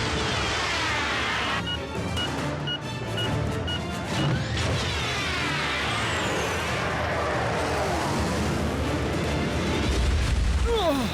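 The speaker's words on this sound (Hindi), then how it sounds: "क्यों, कैसा लगा ये धमाका?" Animated Transformers battle explosion: a large rumbling blast with crashing debris and sci-fi effects, loud and sustained over several seconds, ending with a rising whoosh.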